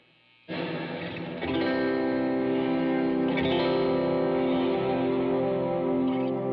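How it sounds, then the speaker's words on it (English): Electric guitar notes drenched in heavy reverb, with a sustained, shimmering wash that swells after a short pause and rings on continuously without talk. "you're going to hear there's going to be a pause in between when I hit the notes and when the reverb happens"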